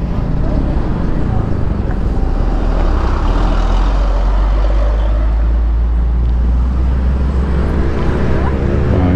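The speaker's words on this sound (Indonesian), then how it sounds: "Wih, ini ada truk gede" Big truck passing close on a city road in Malang, a loud heavy engine rumble that swells and stays strong throughout, with someone talking over the traffic.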